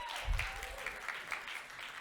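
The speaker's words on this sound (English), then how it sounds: "She's smiling and clapping." Light clapping at an inspirational business talk, a few scattered claps with a brief stronger burst early, faint and somewhat distant in a quiet hall.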